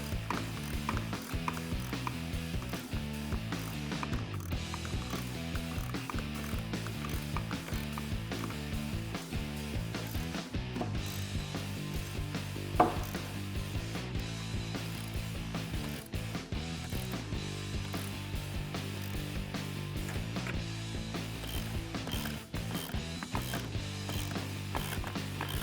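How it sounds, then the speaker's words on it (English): A ratchet with a 7/16 socket clicks repeatedly while tightening a Rough Country mesh grille on a 2015-2017 Ford F150, a faint, rapid, ongoing stream of ratcheting ticks. "Using our Allen key and a 7/16 socket, tighten down the grill to the shutter at the top mounting corner."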